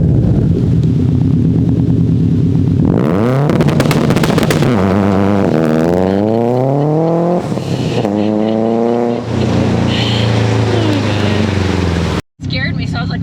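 A 600hp Subaru STI exhaust revs loud and close, several sharp rising and falling sweeps after an idle, ending in an abrupt cutoff, with voices talking over it.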